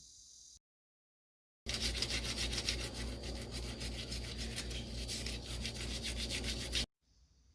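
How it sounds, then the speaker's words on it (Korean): Abalone being scrubbed with a toothbrush, a continuous brisk rasping rub that runs for about five seconds between stretches of silence, close and fairly loud. "칫솔로 닦을수록 깨끗해지네요."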